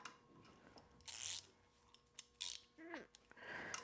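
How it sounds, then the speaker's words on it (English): A ratchet wrench loosens the alternator on a car engine, giving several brief clicking ratchet bursts, close and fairly quiet, with a little speech near the end. "First thing we're going to do is we're going to loosen up the alternator"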